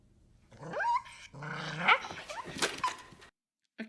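A dog growls and snarls at close range in The Babadook, rising into a harsh drawn-out rumble with whimpering edges, then cutting off into silence.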